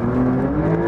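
Inside the cabin of a Porsche 911 Dakar driving on sand dunes, the engine gives a brief, steady, throaty drone that holds constant, loud and close.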